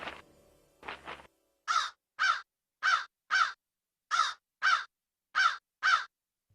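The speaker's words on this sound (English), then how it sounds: "Can you understand what this crow is saying, Birbal?" A crow caws in four loud, evenly spaced pairs of harsh calls, close and clear with silent gaps between them, following a few softer sounds at the start.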